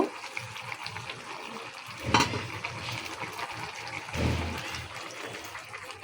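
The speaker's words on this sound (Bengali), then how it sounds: "এখন হালকা আর একটু ঝোল দিব" A little broth poured into a sizzling pan for a rohu fish curry with greens: continuous frying hiss with two short splashy surges as liquid hits the hot pan, close, no talk.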